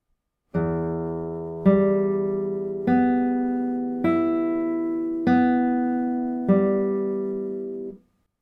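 Six notes are plucked one at a time on a guitar, moving from the sixth string to the first. Each note rings clearly and overlaps the next in an even, unhurried rhythm, close and alone without any voice.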